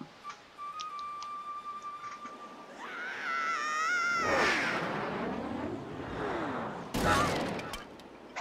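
Cannon launch in The Legend of Zelda: The Wind Waker HD, with a rising whistling whoosh and squeals that end in a sharp burst, heard over faint game music.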